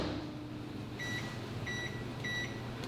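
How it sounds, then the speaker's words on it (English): A microwave oven warming water hums steadily with a low drone, with faint repeated tonal beeps near the end, close and moderate in level. "I'm gonna go put this inside of the microwave right behind you guys for about 1 minute and 15 seconds to get this water nice and warm."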